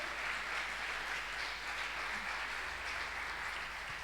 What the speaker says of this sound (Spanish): Y dele un gran aplauso al Rey de Gloria.